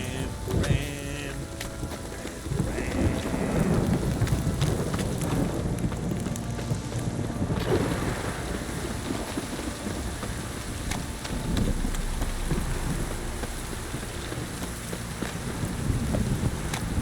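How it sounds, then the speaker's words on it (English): Steady heavy rain hisses and patters with a low rumbling undertone of thunder, while muffled voices come and go beneath it, in the video game The Witcher 3: Wild Hunt. "This downpour's a bastard"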